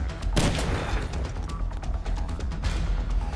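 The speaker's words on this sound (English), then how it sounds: "Someone's shooting from the floor above." Dead Rising gunfire rings out as a loud volley of shots followed by scattered cracks and a dense burst near the end, all heard without any voices.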